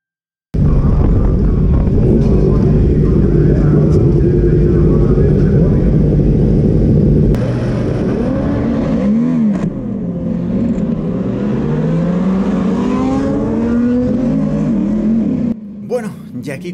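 A Yamaha R1 racing motorcycle engine roars and revs continuously during a race, the pitch rising and falling with gear changes, then briefly dropping near the end.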